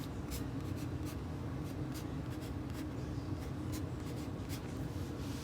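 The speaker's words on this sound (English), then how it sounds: "I'm just going to write the number 7" Pencil scratching across paper while writing a single numeral, soft rubbing strokes repeating at a steady pace over a faint low room hum, close and quiet with no talking.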